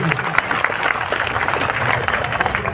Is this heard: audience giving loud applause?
yes